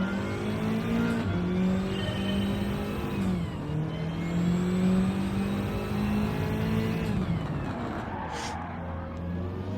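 Race car in Gran Turismo 7 accelerating and braking, the game engine rising and falling through several gear changes with tyre squeal under braking near the end, heard alone at moderate volume.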